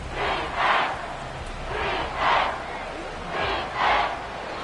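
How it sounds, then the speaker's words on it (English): A stadium crowd at Arrowhead in the video game Madden 24, during a Chargers vs Chiefs game, roars in steady rhythmic swells, rising and falling in three paired chant-like surges over constant background noise. "The Arrowhead crowd in full roar."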